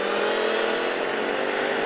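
A motorcycle on the Pau-Arnos racing circuit holds a loud, steady, sustained engine roar under acceleration, close and continuous throughout with no voices.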